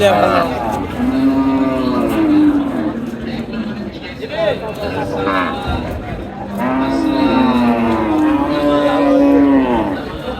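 Cattle at the Sonaichandi cattle market in Chapainawabganj, with cows lowing in long, drawn-out moos: one near the start, a shorter call midway and another long one near the end, over a murmuring crowd.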